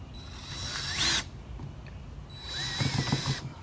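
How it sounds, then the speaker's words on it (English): A power drill whirs in two short bursts against an ice shovel, spinning up briefly, then stopping, with faint clicking and scraping in the second burst as the bit fails to bite. "I was thinking a drill would do it like this,"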